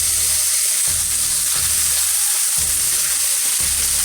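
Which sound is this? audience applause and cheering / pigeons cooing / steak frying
steak frying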